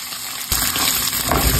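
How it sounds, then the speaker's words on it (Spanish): Shredded meat browning in very hot oil in a pan for a Mexican aporreadillo dish, a steady crackling sizzle that grows louder and busier after the meat is stirred, close and continuous with no talking. "Como el aceite ya está bien caliente, vamos a dorar la carne."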